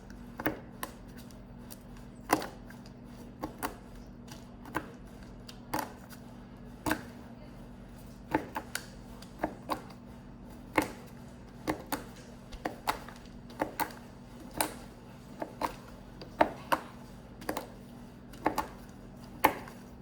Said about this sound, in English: I just wanted to give you guys a little bit more of the satisfying chocolate chopping